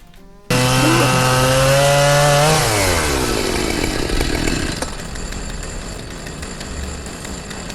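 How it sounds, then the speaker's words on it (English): Chainsaw from a horror film scene: a loud, sudden revving motor starts abruptly after a near-silent moment, holds a high whine for about two seconds, then winds down into rough, grinding noise that continues under steady background rumble. "Pooh keeps trying to Texas chainsaw Christopher"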